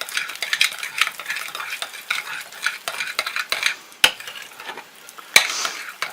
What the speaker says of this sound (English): I'll give it another stir or two.